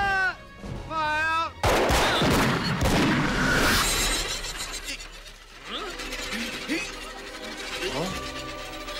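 A firing squad fires a volley of gunfire in a period TV adventure: a sharp loud crack after a shouted command, followed by dense crackling and booming reports that fade, with shouting voices before and afterward.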